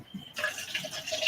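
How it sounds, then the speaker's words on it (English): Tea poured into a cup makes a steady watery trickle with bubbling splashes, starting abruptly after a brief quiet moment and continuing close and clear to the end. "I'm pouring some tea in my cup"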